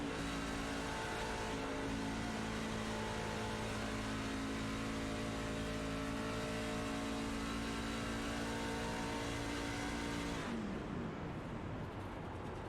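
A race truck's engine heard from the onboard camera at Pocono Raceway, a loud, steady drone with harmonic whine held for about ten seconds before the pitch abruptly drops off as the throttle lifts.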